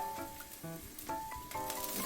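Sliced onion, half of a small one, sizzles steadily in a pan with faint stirring, a soft continuous crackle heard up close with no talk.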